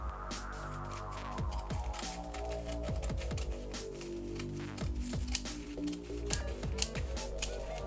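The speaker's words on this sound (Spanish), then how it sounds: "cogeremos unas tijeras y lo que vamos a hacer es cortarlo por la mitad" Scissors snip through hydrographic printing film, cutting it in half with a quick series of close, crisp clicking cuts over a low steady hum.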